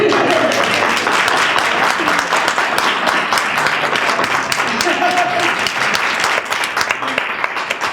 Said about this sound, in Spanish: Y sí, la vamos a aplaudir.